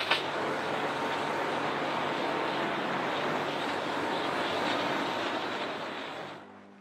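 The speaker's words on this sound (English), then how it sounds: "First thing I'm going to do is pre-rinse the bike." Water sprays steadily onto a motorcycle during a pre-rinse to loosen dirt, a loud, continuous broadband hiss that holds for about six seconds before cutting off, with no talking.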